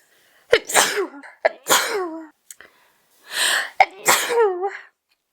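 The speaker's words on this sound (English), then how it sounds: "I'm going to sneeze." Several sneezes in a row, close and loud, each a sharp gasp and burst with a trailing vocal tail, separated by brief silences.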